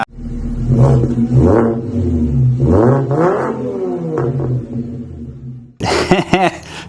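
2017 Audi A4 Quattro engine running nearby, a loud, continuous drone that rises and falls in pitch as it revs, ending in a sharper burst of revving.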